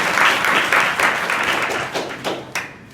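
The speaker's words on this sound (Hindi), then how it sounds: "चंदन के लिए जोरदार ताली।" A class of school students in grades 8 to 10 claps loudly for a classmate, a dense burst of applause that stays strong for a few seconds and then thins into scattered claps near the end.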